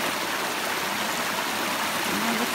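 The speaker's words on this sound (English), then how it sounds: "it looks like I need to ford a creek in rainy weather. Means a lot of water is flowing" A creek on the Appalachian Trail in Vermont runs full in rainy weather, a close, continuous rushing and gurgling of water that holds steady throughout without any talk.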